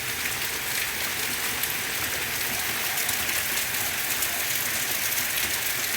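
Steady rain falling, a dense, even hiss of drops on surfaces that continues unbroken and moderately loud throughout, with no voices.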